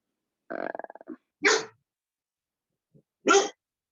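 A dog barks close by in separate bursts: a rattling growl-bark, then a sharp bark, a pause, and one more loud bark.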